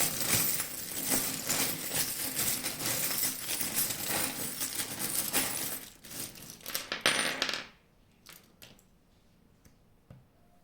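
Small charms cast and shaken for a tarot reading, a close, dense clinking and rattling that goes on for several seconds, then drops to a few scattered faint clicks.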